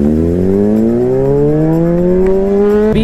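A Honda CBR 600RR motorcycle pulls away in first gear, its engine note rising steadily and loud close by, then a brief sharp blip near the end.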